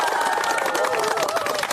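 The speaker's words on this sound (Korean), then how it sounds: "박수 쳐드립시다." An outdoor crowd at a rainy election campaign launch claps and cheers in a brief, dense burst of applause, with voices mixed in.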